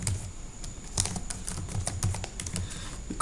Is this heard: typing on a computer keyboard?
yes